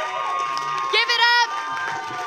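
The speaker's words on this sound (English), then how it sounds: "all of you get the fuck up out of your seats and applaud them" A live show audience cheers and whoops, with high excited shouts rising loudly in the middle over a steady crowd roar and some voices.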